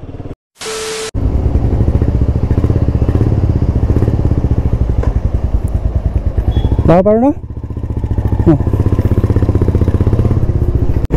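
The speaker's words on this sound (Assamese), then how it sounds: "গোৱানখনৰ টেস্ট ড্ৰাইভ লৈ আছো" A Royal Enfield Goan Classic 350 motorcycle engine thrums loudly and steadily while riding, with a gear-change rev near the middle and a voice speaking over it.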